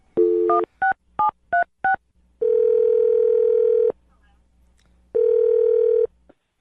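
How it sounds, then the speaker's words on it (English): A telephone number is dialed on a phone line, with a quick burst of five touch-tone beeps followed by two long, loud ringback tones separated by silence, with no talk. "I'm going to dial her phone number right now."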